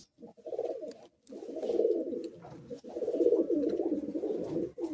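Madrasi high-flying pigeons coo in low, rolling bursts inside a loft, close and fairly soft, with short pauses between phrases and no talk.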